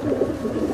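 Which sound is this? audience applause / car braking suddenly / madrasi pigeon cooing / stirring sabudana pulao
madrasi pigeon cooing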